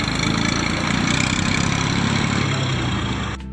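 A tractor engine idling nearby with a steady, loud mechanical chug and clatter, continuous throughout before a sudden drop in level at the very end.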